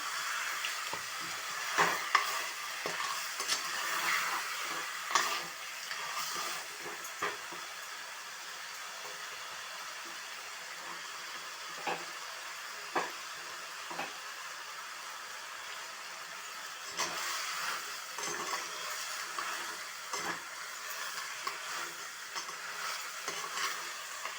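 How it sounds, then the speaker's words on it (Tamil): Crab pieces sauté in a hot pan for a crab soup, giving a steady close sizzle and frying hiss with intermittent scraping stirs and clinks of a utensil throughout, no voices. "கலர் மாறுற வரைக்கும் ஒரு 1 மினிட் 2 மினிட் வதக்கினா போதும்"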